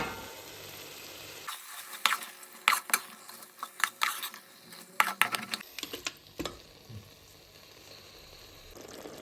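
Mutton pieces dropped into a pan of cooked-down spices for mutton pulav, with clattering utensil strikes and stirring scrapes over a steady sizzle, loud bursts clustered in the middle then settling into continuous frying.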